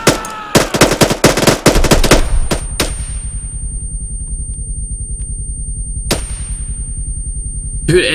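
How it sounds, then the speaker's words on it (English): Loud, close bursts of rapid gunshots in a roleplay video game, a dense volley in the first few seconds followed by scattered single shots and a lone late crack, with a low ambient rumble in between. "Dude, Ender almost shot you."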